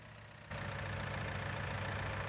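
A tractor engine runs in Farming Simulator 19 as a steady mid-low drone that steps up abruptly in loudness and fullness after a brief quieter start, then holds evenly with no voices.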